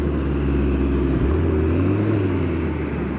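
A Ford Mustang engine, started remotely, idles with a deep, steady rumble close by, its note dipping briefly then settling lower, running alone with no talk.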